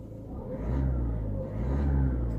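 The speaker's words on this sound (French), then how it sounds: "Alors je vais mettre la voiture en route parce qu'évidemment ça ne marche pas sans." A diesel car engine turns over and settles into a low, steady rumble, close by and moderately quiet, with no talking.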